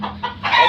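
A rooster gives a short, loud burst of clucking up close, two or three quick raspy calls with nothing else behind them.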